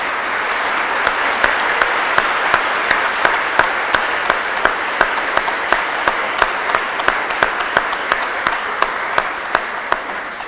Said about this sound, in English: please give one more round of applause for Her Honours King Charles III Coronation Medal recipients.